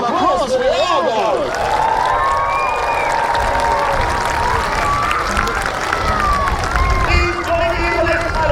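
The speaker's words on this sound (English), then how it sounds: "A round of applause for Diago." Crowd noise swells around a jousting tournament at Pendennis Castle after a knight scores in his first joust, with broad steady applause and cheering through the whole stretch and a voice briefly on top near the start.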